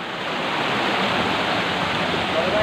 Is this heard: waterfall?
yes